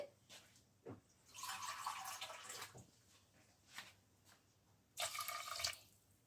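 Water pours into a pot of proso millet in two bursts of splashing, with short drips and clinks between them, close by and moderately loud.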